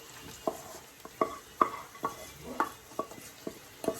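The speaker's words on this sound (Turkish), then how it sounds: "Şöyle birbirini bulana kadar karıştırayım." A spoon stirs lentils, chickpeas and beans in a pot of Moroccan harira soup, making a run of soft wet scrapes and light knocks about every half second over a faint simmer.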